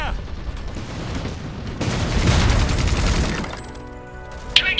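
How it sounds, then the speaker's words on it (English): Video-game combat gunfire in the IH game, a swelling rumble of shots and blasts that fades near the end before a sharp crack, with voices shouting over it. "Taking enemy fire!"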